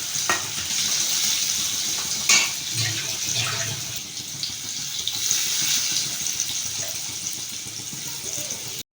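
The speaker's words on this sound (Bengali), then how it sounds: "এবার বাঁধাকপির জন্য আলুটা নুন হলুদ দিয়ে ভেজে নেবে।" Potatoes frying in oil with salt and turmeric, a continuous close sizzle with stirring and scattered knocks of a utensil against the pan.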